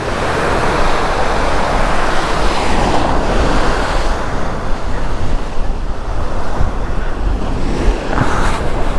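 Large ocean waves breaking on the shore at Barangay Tambong, Gloria, Oriental Mindoro, a loud continuous roar of surf with wind buffeting the microphone throughout.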